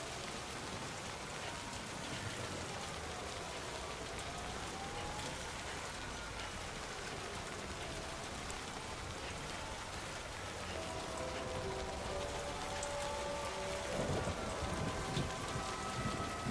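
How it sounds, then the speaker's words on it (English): Steady rain falling in Australia, a continuous broadband hiss of drops on surfaces throughout, with a faint tonal hum in the background toward the end. "I hope that you can hear this rain."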